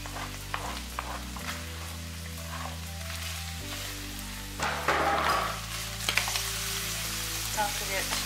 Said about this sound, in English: It says to add the carrot, celery, and garlic, season with salt and pepper, cook, stir occasionally 4 to 5 minutes